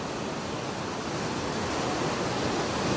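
A creek swollen by heavy rain into a river-sized flood, with water coming down from the mountains, roars as a steady dense rush, loud and unbroken, with no voices.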